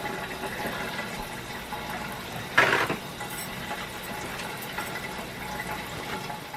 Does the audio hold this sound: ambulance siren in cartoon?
no